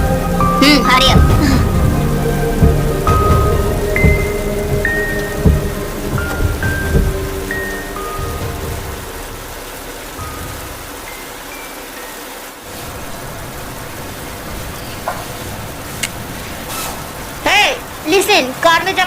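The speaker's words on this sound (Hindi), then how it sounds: "बाहर बहुत ही बारिश हो रहा है।" Heavy rain pours steadily outside during a storm, with thunder rumbling low at the start. Voices and scattered sharper sounds come and go over the downpour.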